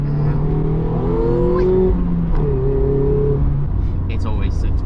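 A Mazda MX5 ND's engine revs up after a downshift while cruising on the road, a loud rising and falling engine drone close by, with a person talking over it.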